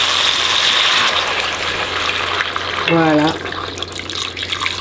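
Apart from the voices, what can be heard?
water being poured onto meat for soup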